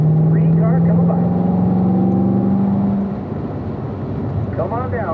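A race car on a wet track session passes by, a rising and falling engine whine with strong tonal harmonics, loud at first and fading after a few seconds, with a second car's engine tones building near the end.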